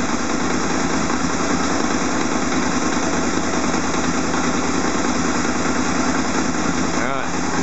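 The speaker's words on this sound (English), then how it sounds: "So now you go and set the idle speed again." A Honda VFR800 motorcycle engine, sixth generation, idles steadily and close by during starter valve synchronisation, a loud, even, throbbing drone that holds through the whole stretch with a brief change near the end.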